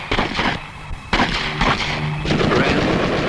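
A Bren light machine gun fires in short bursts of rapid shots during RAF Regiment weapon training, loud and close, with dense crackling reports that run through the whole stretch.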